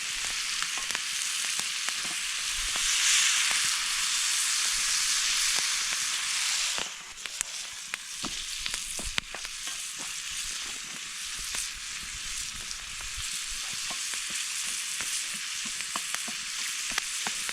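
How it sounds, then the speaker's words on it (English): Loud, steady sizzling of chili with chili powder frying in a hot pan outdoors in the bush, with occasional clinks and stirring sounds partway through. "That is sizzling nicely."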